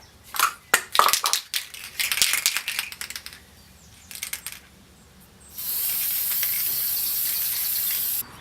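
A PlastiKote spray paint can sprays a vase in short hissing bursts, then one long steady hiss, with a few rattling clicks between bursts, close and clear.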